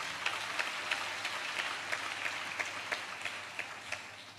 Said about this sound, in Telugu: చప్పట్లు కొడుతూ స్తోత్రాలు చెప్పు.